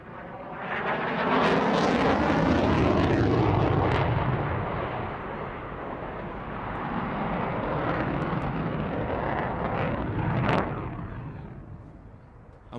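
A Eurofighter Typhoon jet with two Eurojet EJ200 engines roars past at an RAF airshow, a loud sustained rumble that swells, eases and swells again, with a sharp burst near the end.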